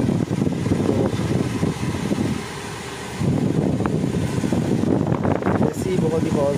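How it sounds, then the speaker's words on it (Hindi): A used car's air conditioner blows steadily inside the cabin as a voice talks over the fan noise, which dips briefly in the middle before resuming. "एसी पावरफुल है बहुत।"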